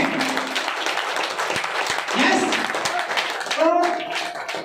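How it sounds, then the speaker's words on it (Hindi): An audience at a Royalty achievers business event claps for an honoured guest, with steady, dense applause throughout, and voices and cheers rising over it. "इतनी तालियां काफी नहीं है"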